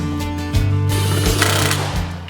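Steady powered-tool whirring at close range, likely a driver running bolts in while mounting a handle above the door during a cab-light trim install on a 2015-2019 Chevy Silverado.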